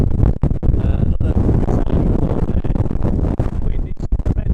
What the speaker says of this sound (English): wind is tremendous here